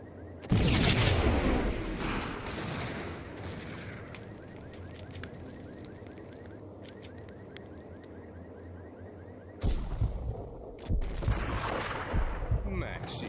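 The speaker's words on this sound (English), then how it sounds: "Please, start shooting your gun, Max." Sustained gunfire and explosive booms from the Max Payne video game, a dense, loud barrage with a brief lull near the end before more shots, mixed with faint voices.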